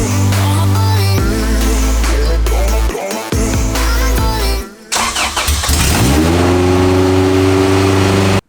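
A Honda Civic with a B18C engine fires up loud and close, settling into a steady idle, cutting out briefly, then restarting and revving up before holding a high, even drone.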